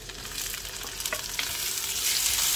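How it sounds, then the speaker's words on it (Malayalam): Ginger sautéing in a pan for a dal curry, a continuous close sizzle with light stirring scrapes that grows slightly louder over time. "ഇഞ്ചിയും കൂടെ ഇട്ടിട്ട് നല്ലോണം വാട്ടിക്കൊടുക്കാം."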